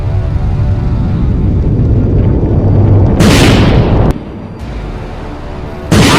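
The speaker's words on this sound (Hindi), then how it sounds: "तब पतलू के कहने पर कद्दू रोबोट उस एलियन स्पेसशिप पर फायरिंग करने लगा।" A cartoon robot fires on an alien spaceship with loud, continuous booming blasts and rumbling explosions, sharp bright bursts cutting in near the middle and again at the end, with no talking.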